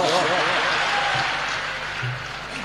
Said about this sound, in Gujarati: પાડો તાળીઓ, આપને એક પ્રોગ્રામ મળી ગયો